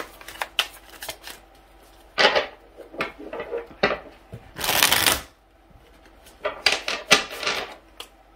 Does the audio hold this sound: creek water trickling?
no